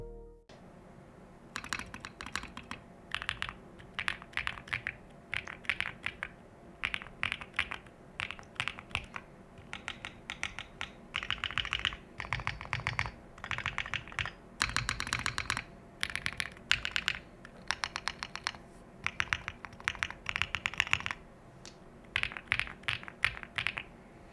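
Continuous clacky typing on an Angry Miao Compact Touch R2 mechanical keyboard, quick bursts of keystrokes with short pauses, close and fairly quiet, no voices.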